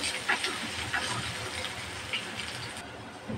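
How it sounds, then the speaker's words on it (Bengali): Chopped onion fries in oil in a pan with green chilies, ready for a bitter gourd bhaji. A steady close hiss runs throughout, with faint crackles popping through it. "পেঁয়াজটা ভালোভাবে ভাজে নেব"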